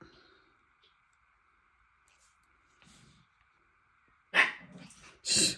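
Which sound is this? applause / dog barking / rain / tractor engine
dog barking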